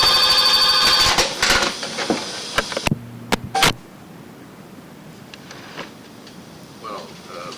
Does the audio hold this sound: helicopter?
no